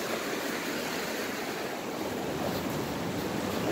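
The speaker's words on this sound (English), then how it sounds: "Where's this water coming from?" Water rushes and flows continuously in a wet forest near quicksand, a steady broadband wash with a windy edge and no voices.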